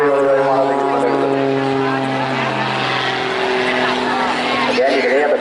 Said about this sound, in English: Again, you can hear the growl from the engine. Big, 6-cylinder, air-cooled engine.